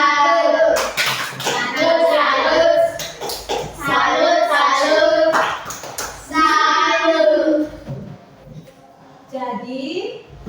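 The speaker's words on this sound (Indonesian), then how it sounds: "Tepuk salut dulu untuk Ando." A fifth-grade class of children in an Indonesian primary school math lesson chants and claps a rhythmic salute together, their voices loud and bright with sharp hand claps mixed in, fading to a quieter voice near the end.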